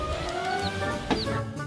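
A small cartoon goose gives brief clucking, chicken-like calls over a busy backdrop of music and effects, with a couple of short chirps standing out.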